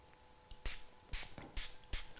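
Four short hissing spray bursts of cleaning solution onto the adhesive side of a Spigen screen protector for a Samsung Galaxy S24, evenly spaced, close and fairly loud against a quiet room, with no talking.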